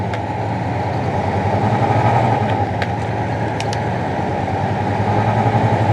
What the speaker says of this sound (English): You guys might like to hear this truck. It makes a pretty nice noise.